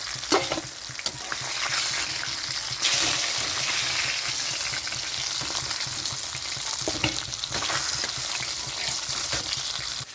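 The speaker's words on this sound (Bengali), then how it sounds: "মাছটা ভাজা হয়ে গেছে তো আমি এখন নামিয়ে নিচ্ছি" Pieces of catla fish fry in hot oil while being lifted out, a loud continuous sizzle with intermittent scraping and spatula movements close by, no speech.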